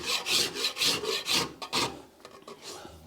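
A hand rasp shapes a wooden dome in rhythmic strokes, about six coarse scraping passes close up, then several lighter, shorter ones trailing off, with no voices.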